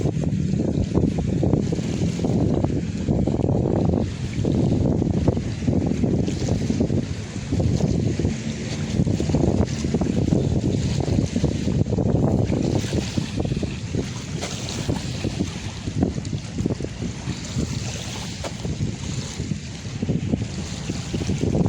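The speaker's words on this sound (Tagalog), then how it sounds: "Nakaka-relax pa yung hampas ng alon," Waves wash against the shore at Manila Bay's dolomite beach in a continuous rushing roar, with heavy wind buffeting the microphone and no voices heard.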